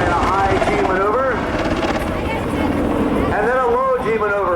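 An AH-64 Apache helicopter passes in a high G maneuver at a 1997 military air show at Quonset ANGB, its rotor thump and engine whine loud and sustained beneath an announcer speaking over a public address system.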